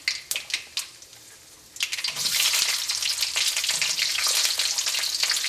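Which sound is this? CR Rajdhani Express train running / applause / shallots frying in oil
shallots frying in oil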